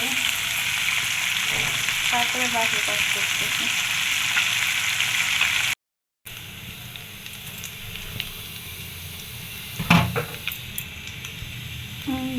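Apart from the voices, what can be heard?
fish frying in a pan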